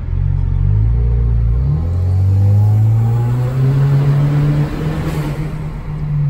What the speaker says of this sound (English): That turbo sounds crazy